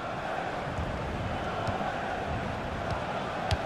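A stadium crowd in a FIFA 16 Europa League match cheers in a continuous broad roar, steady and fairly loud, with faint thuds of play underneath.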